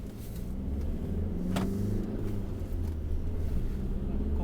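A Jeep Renegade 1.6 Multijet diesel with a manual gearbox, heard as a low, steady engine rumble throughout, a drone that holds even as the car approaches, with no clear separate voices.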